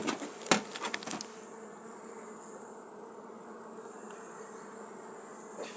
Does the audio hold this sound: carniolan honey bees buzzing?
yes